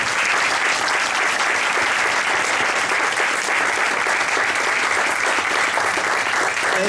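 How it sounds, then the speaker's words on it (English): Steady, dense applause from a crowd at an elementary school groundbreaking ceremony, loud and continuous for the full stretch without any clear voices on top. "If I could have a round of applause for those who participated."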